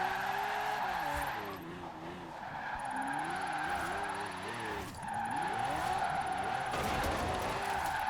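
In the Forza Horizon 4 racing game, a Lamborghini drifts and spins out with loud tires skidding and squealing over a rising and falling engine note, close and continuous, with someone talking faintly over it.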